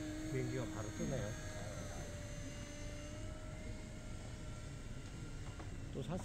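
Electric RC Cessna 182 model airplane powered by a 4-cell battery, its propeller buzz droning steadily at moderate distance, faint and continuous, with brief tonal whines early and late.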